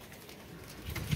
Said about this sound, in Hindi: ये कबूतर रात रहा कबूतर है जी बहुत अच्छा नस्ली कबूतर है